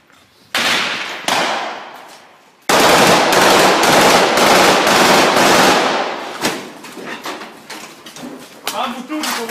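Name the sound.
gunfire in combat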